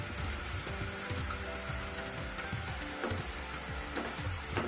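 Onion frying in a pan during Indian home cooking, with a steady crackling sizzle and soft scraping strokes from stirring, close and constant without pause.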